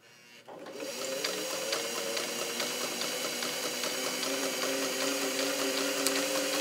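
A fully restored vintage all-metal Singer 403 sewing machine stitches steadily, its motor humming close and loud with a continuous, even mechanical whir and fine rapid needle clatter that starts after a brief quiet moment and runs on without pause.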